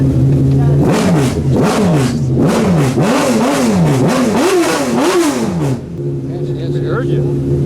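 A classic race car, not road legal, pulls away at The Quail in 2016 with a series of rising and falling revs through the gears, loud and close at first, then dropping back to a steady hum; people talk over it.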